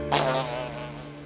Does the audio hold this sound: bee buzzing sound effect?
yes